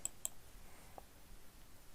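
A computer mouse clicks while Hotmail is set up in Outlook's settings: two quick, faint clicks near the start, then near silence with a low room hum.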